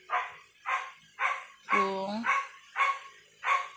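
A dog barks in a steady series of loud, close barks, about seven in under four seconds, with one longer, strained bark in the middle and a brief spoken word.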